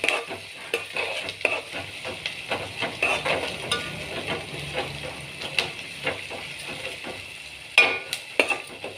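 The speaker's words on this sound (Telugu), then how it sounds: "అల్లం వెల్లిగడ్డ పేస్ట్ కూడా కొంచెం దూరగా ఇలా నూనెలా మగ్గనియాలి." Ginger garlic paste fries in oil in a pan, a soft continuous sizzle with frequent scraping and stirring clicks from a utensil, close by and fairly quiet.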